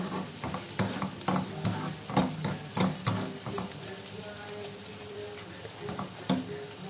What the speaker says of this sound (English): Now let the onions get brownish in color and then add ginger garlic paste to it.